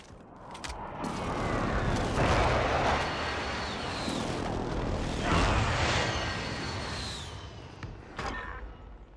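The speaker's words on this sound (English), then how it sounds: "Friendly precision airstrike inbound." Precision airstrike in Call of Duty: Warzone: a low rumbling roar of jet passes and blasts swells and fades over several seconds, with sharper cracks near the start and end.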